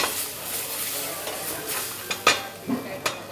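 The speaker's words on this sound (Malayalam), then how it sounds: "മിക്സ് ചെയ്യുക." Coconut milk being stirred into a kanthari chili mixture in a pan, a steady soft sizzle and liquid swish with a few sharp spoon scrapes and knocks toward the end, close and fairly quiet.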